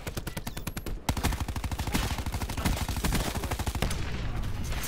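Rapid automatic hip-fire gunshots in Black Ops 4, a dense string of sharp, evenly spaced shots in one long burst after a short opening volley, loud and close with no talk.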